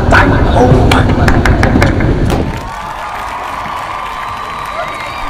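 A backstage crowd at a music event cheers and claps loudly for the first two seconds, with shouts over the noise, then drops to a quieter hum with music playing.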